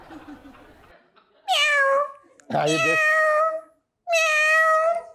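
A woman imitates a cat with three drawn-out, wavering meows in succession, loud and close, after a few spoken words in a talk-show studio.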